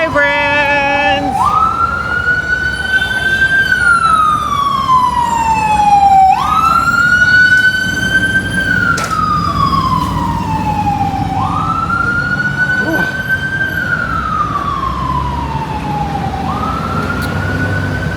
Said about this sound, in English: it's not New York City if there's not sirens